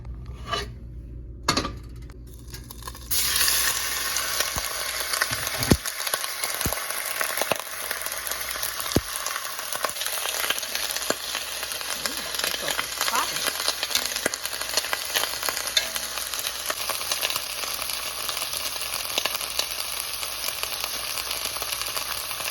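Meat searing in a Dutch oven, a steady broadband sizzle and rasp running unbroken throughout, with a few sharper clanks near the start and no talk.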